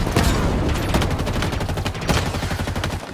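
Loud, dense burst of plasma grenade explosions and crackling weapon fire in the Halo video game, with sharp repeated blasts and sustained rumbling.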